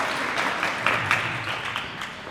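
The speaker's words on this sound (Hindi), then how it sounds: "सभी लोग तालियां बजा करके धन्यवाद प्राप्त करें।" Audience applause at a Sanskrit school cultural ceremony in India, a dense, steady wash of many hands clapping with a few sharper claps standing out, heard close and without talk.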